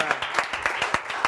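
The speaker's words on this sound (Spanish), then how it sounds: "Un aplauso" Clapping in a basketball talk-show studio: a handful of quick, sharp hand claps in a fast, even rhythm, close and distinct rather than a crowd roar.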